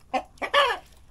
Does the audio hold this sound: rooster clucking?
yes